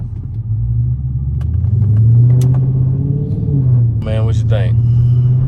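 A Dodge Charger 392 V8 rumbles steadily at idle, deep and continuous close by, with someone talking over it throughout.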